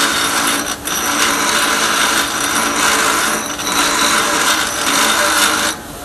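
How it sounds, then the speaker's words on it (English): A regular bolt pressed against the side of a spinning grinding wheel, producing a loud, continuous harsh grinding rasp that holds steady for several seconds before easing off near the end. "I'm grinding a concave section in the center by hitting the side of the grinding"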